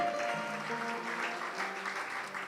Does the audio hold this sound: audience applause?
yes